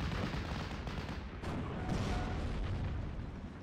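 Dense gunfire and artillery booms rumble in the strategy game Steel Division, overlapping rifle, machine gun and anti-tank cannon shots forming a loud, continuous battle roar without talk.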